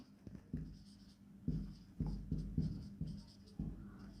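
Quiet scratchy strokes of writing on a board come in short, uneven bursts with brief pauses between them, faint and close, with no talk over them.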